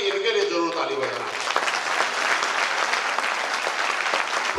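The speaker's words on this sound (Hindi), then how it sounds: "तो इसलिए मैंने बोला कि इनके लिए जरूर ताली बजाना" An audience at a motivational speech event breaks into loud, sustained applause, dense clapping filling the room after a voice briefly speaks at the start.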